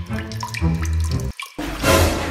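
A tap runs water for a drink, a steady close splashing and gushing stream that fills the whole moment, with no voices.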